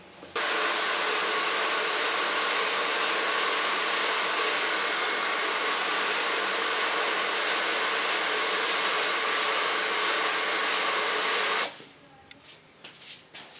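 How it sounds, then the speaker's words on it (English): A hair dryer blows steadily and loudly on short straight bob hair, working up from the neckline in a continuous whooshing roar that runs for about eleven seconds, then cuts off, leaving faint room noise. "We'll start drying in the neckline and work my way up."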